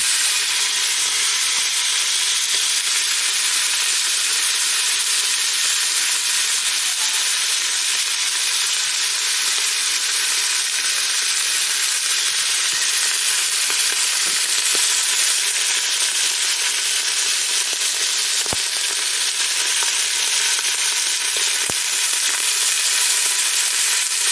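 Beef pieces browning in a hot pan for stew give a loud, steady sizzle and hiss that runs unbroken throughout, with a few faint clicks and no talking.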